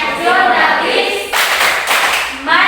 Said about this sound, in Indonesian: Ibu sudah mengajarkan tepuk PPK.